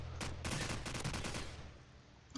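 An AK rifle in Call of Duty 4 fires rapid, loud bursts of automatic gunfire, a dense rattling string of shots that briefly trails off before another shot at the end.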